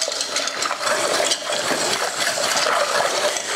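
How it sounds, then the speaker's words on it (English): A whisk works hot full-fat milk into a mac and cheese sauce, with continuous quick scraping and swishing against the pan, steady and close, with no voices. "Keep whisking it and it will thicken up naturally."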